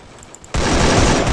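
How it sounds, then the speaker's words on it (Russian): Video game gunfire in Free Fire breaks out suddenly as a loud, dense burst of rapid shots after a quieter moment with a few faint clicks. "В меня стреляет."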